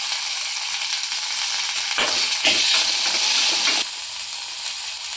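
Spices, onion and tomato fry in hot oil in a kadai for avarekalu sambar, a steady loud sizzle running throughout with a brief stirring clatter in the middle, no voices.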